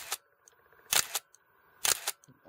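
A Nikon F3 film camera fires its shutter in single mode, with three crisp, close mechanical clacks spaced about a second apart over a faint steady hum, and no voices.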